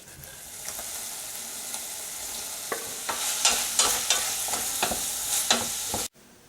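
Chopped onion and bacon frying in a saucepan give a steady close sizzle, with stirring clatters and scrapes from about the third second before the sound cuts off abruptly.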